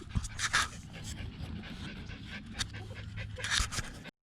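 Two dogs at a lake, one of them afraid of water, pant quietly and steadily with a few faint whimpers mixed in.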